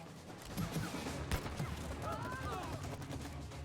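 Video game gunfire, a rapid burst of shots that is moderately loud and sits under ongoing chatter and voices from players talking.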